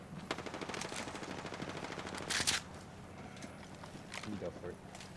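Rapid automatic gunfire in Apex Legends, a steady stream of close shots for a couple of seconds, then quieter scattered footsteps and game noise, with a player talking over it.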